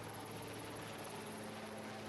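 A BNPB helicopter carrying a 5,000-liter water bucket water-bombs a fire at the Sarimukti landfill, its rotor a steady, distant, faint drone throughout with no talk.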